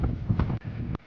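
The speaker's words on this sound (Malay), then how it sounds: "Angin padu. Ombak padu." Strong wind at sea buffets the microphone during a kayaking trip, a loud rough rumble with gusty surges and brief dropouts, close and unbroken.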